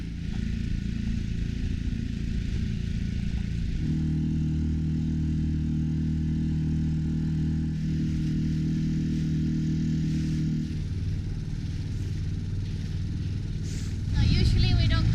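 A small outboard-powered dinghy motoring along the Channel Islands coastline in California, a loud continuous engine drone that shifts pitch midway, with wind and water noise and a voice speaking over it.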